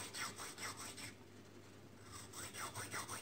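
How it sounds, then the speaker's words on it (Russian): A needle file with a sharp edge works around the circumference of a metal rod in quick, quiet rasping strokes: a run of about five, a brief pause, then another rhythmic burst, close up and faint. "мы проходим надфилем с острой гранью"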